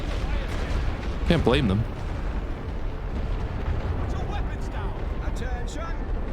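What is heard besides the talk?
artillery bombardment in The Great War: Western Front video game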